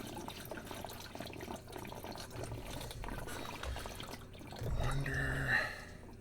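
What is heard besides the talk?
water draining from a cut pipe into buckets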